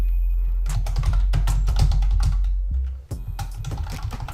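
Close, steady typing on a computer keyboard while entering image alt text in Squarespace, with a dense run of key clicks, a brief pause near the end, then more keystrokes.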